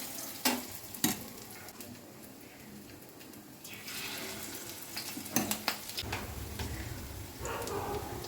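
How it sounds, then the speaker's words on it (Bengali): Batter-coated bakful flowers frying for pakora in hot oil, a steady sizzle with intermittent stirring clinks and scrapes that swell louder partway through, no voices. "এবার একটা একটা করে ফুল আমি ব্যাটারের সঙ্গে মাখিয়ে"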